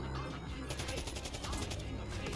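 Rapid gunfire bursts in the video game Metroid Prime Remastered rattle in quick succession at low volume, with a voice partly present underneath.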